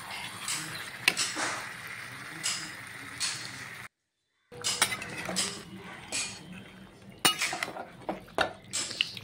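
A spoon clanks and scrapes against a pot as marinated chicken is stirred for home-style biryani. The irregular metallic clinks come close and clear, with a brief silent break partway through.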